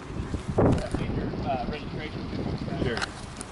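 Wind rumbles against the microphone in uneven gusts while a person speaks nearby.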